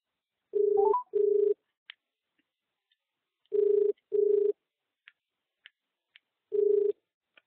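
Telephone dialing tones on a call-in line: two quick pairs of steady beeps separated by a pause, then a single beep, with faint clicks in between and no talk.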